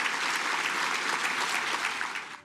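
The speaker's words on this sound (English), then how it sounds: "Let's give them a round of applause." Audience applause fills a hall at a government awards ceremony honouring civil servants in the Cayman Islands, dense steady clapping from many hands throughout, easing slightly at the very end.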